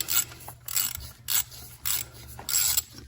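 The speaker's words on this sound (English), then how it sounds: "So we're just gonna crack it like that. Comes loose." A ratchet wrench cracks loose a bolt on the high-pressure fuel pump of a BMW N54 engine, giving several close, rhythmic bursts of clicking in short strokes with no talking.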